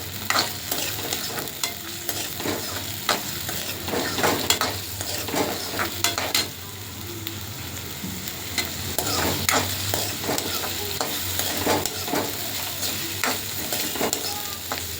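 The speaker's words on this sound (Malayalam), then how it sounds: "ഇനി ഉള്ളി ഇട്ട് കൊടുക്കാം" Steady sizzling and frying of onions in a hot pan after mustard seeds, with intermittent scraping and stirring strokes throughout, moderately loud and close.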